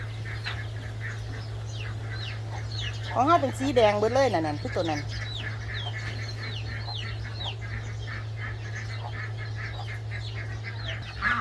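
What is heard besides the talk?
Muscovy ducks calling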